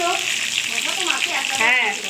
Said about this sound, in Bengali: চিংড়ি মাছের ফ্রাই আবার একবার করে হবে ভাজা